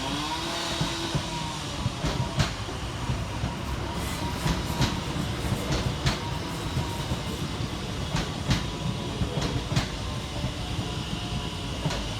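Class 730 West Midlands Railway electric train rolling into a station, a continuous rumble with repeated clickety-clack wheel beats over rail joints, fairly close and steady throughout with no talking.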